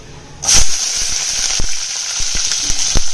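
Green chillies hit hot coconut oil with spluttering mustard seeds, bursting into a loud, steady sizzle with scattered pops and crackles throughout.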